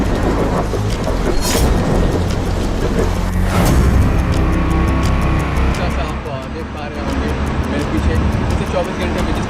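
Record-breaking torrential rain and a thunderstorm in Dubai, with loud steady rain roaring throughout and a couple of sharp thunder cracks near the start, traffic noise underneath.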